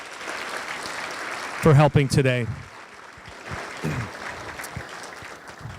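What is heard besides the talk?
audience applause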